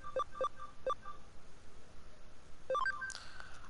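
A phone buzzing with incoming messages, several short electronic alert tones in quick groups, clear against a quiet background, followed by a brighter chime.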